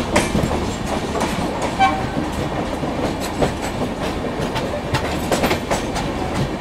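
Two express trains, the Humsafar Express and the Patliputra Express, run side by side on parallel tracks, with loud continuous rumble and rhythmic wheel clatter close by and brief horn toots rising over the din.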